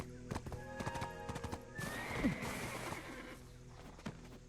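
In the video game Black Desert, a horse's hooves clip-clop in a quick, even rhythm, then a bright, clear whinny rings out before the hoofbeats resume, all fairly quiet.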